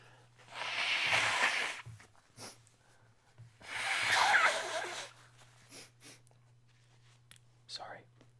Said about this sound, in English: I should probably blow my nose